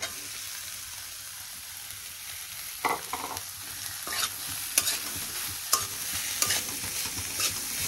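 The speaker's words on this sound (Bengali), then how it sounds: "হয়ে গেল আমার ভাত ভাজা" Close, steady frying sizzle from egg fried rice with fried potato and onion in a pan, broken by occasional scraping stirs from a spatula, with no voices.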